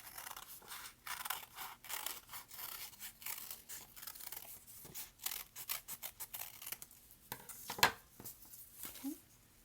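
Scissors snip through paper in a rapid series of crisp cuts, close by, with soft rustling and a brief clack near the end.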